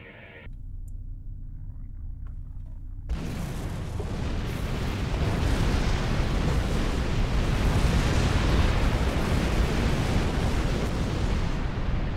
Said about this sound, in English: The charges on the surface are ready to detonate on your command.